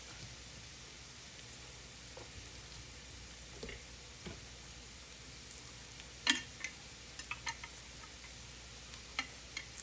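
Oil and flour roux back on the heat in a pan for brown gravy gives a faint, steady sizzle with scattered small ticks and pops, quiet and close, with no talking.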